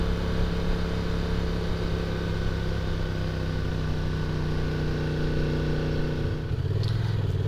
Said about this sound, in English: That was an attempted first gear start, or third gear start.